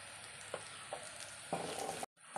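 Crushed chillies and turmeric frying in a pan, sizzling steadily up close with a few soft stirring scrapes and one brief dip to near silence.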